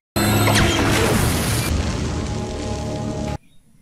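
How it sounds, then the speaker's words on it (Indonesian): A sudden loud explosion bursts out and rumbles for about three seconds before cutting off abruptly. "Seketika ledakan terjadi."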